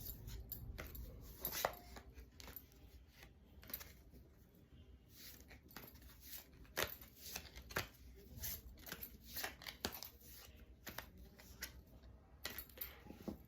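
Tarot cards being shuffled by hand during a Hindi reading, giving repeated soft riffling and papery flicks at close range, with no voices over the steady rustle.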